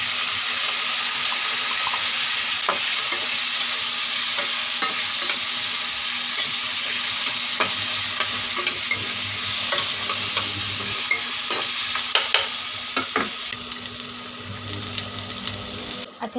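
Onions frying in oil in a pan, a dense, steady hiss of sizzling with periodic clicks and scrapes of stirring, loud and close, easing slightly toward the end.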